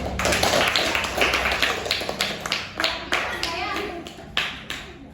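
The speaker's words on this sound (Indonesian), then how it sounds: "Ayo kasih tepuk tangan untuk Berdi" Students in a classroom clap for a classmate, brisk overlapping hand claps close by, with children's voices chattering underneath.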